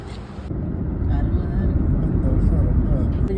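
A family car sets off on a journey as a low engine rumble builds and holds steady from inside the vehicle, with voices talking over it.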